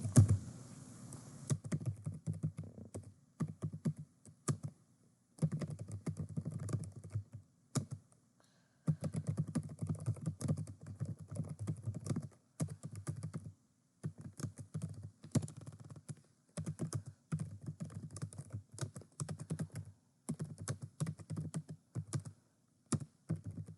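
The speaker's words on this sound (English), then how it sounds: "I begin typing in the text box," Bursts of rapid keyboard typing, clicking keys in quick runs separated by short pauses, close and clear with no voices.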